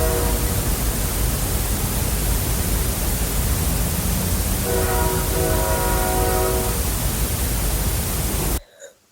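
Distant train horn heard from a lake cabin, a faint tonal blast rising through heavy steady hiss for a few seconds before the sound cuts off abruptly.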